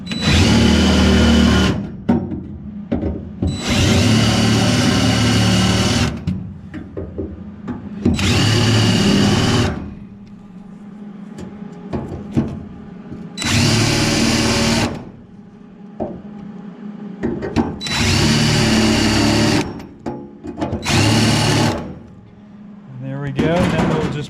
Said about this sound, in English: So let's grab our larger drill here. We'll clean those holes up.